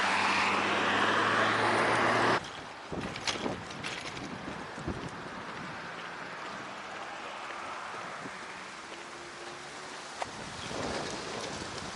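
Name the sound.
icy southern wind blowing outdoors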